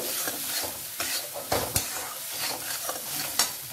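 Spices with salt and kasuri methi are stirred in a pan. Rhythmic scraping strokes every half second or so run over a soft, constant sizzle, close and clear.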